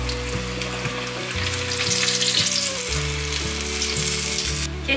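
Tofu skin and taro paste deep-frying in hot oil, a loud, dense, continuous sizzle and crackle close up, steady for the whole stretch over a low hum.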